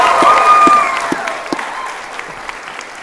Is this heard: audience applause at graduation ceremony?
yes